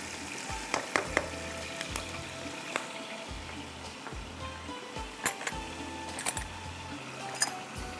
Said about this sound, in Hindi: बस ये प्याज को हमने करना है, अच्छा सा कलर देना है, और ज़ीरे को भी इसके साथ हमने फ्राई करना है